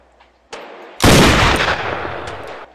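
Sniper rifle shots fire in the VR shooting game Gun Club: a sharp crack followed by a heavy, loud blast with a long, roaring tail, close and with no talking.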